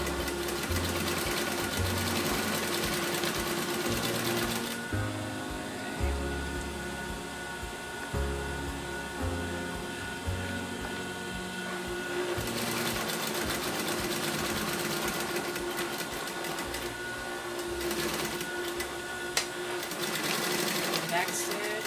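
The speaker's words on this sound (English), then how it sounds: "now you have sewn your bias tape onto the seam" A sewing machine stitches bias tape onto a fabric seam for a Hong Kong seam finish, a close, steady motor whir with needle chatter that runs in long stretches, slows and pauses, then resumes.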